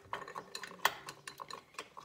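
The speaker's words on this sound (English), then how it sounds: "Give it a little bit of a stir, and then the mango will start to melt as well" Crushed raspberries and mango stirred in a glass for a mango and raspberry tonic mocktail, giving light clinks and scrapes of a spoon against glass in an irregular run, one sharper clink partway through, close and quiet with no talk.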